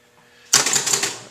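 An electromechanical pinball machine resets: after a near-silent moment, a sudden burst of rapid mechanical clattering and ratcheting starts up close and keeps going.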